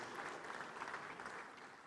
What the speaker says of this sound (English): One more time, a resounding round of applause.